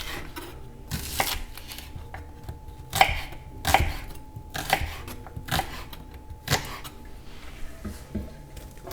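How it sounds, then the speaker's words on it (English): Knife roughly chopping onions on a cutting board, a series of irregular, fairly close thuds with short gaps between strokes, heard alone without talk. "I'm gonna roughly chop the onions."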